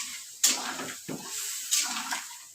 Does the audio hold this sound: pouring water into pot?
yes